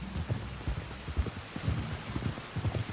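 Rain falls in the video game Red Dead Redemption 2, a steady soft patter with scattered low thumps of drops and distant rumbles, quiet and continuous with no talking.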